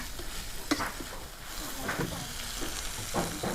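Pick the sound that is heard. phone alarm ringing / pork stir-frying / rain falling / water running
pork stir-frying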